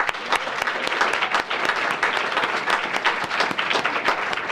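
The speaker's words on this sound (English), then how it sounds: "A round of applause for all of them," Audience applause at an awards ceremony, a full room clapping steadily with close, crisp individual claps and no pauses.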